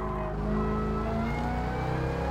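A race car engine at full throttle in Gran Turismo Sport holds a loud, sustained, harmonic drone that climbs slightly in pitch, steady and close throughout.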